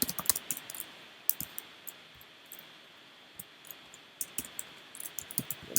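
Quick bursts of computer keyboard typing, close and fairly quiet, with irregular clusters of clicking keystrokes separated by short pauses.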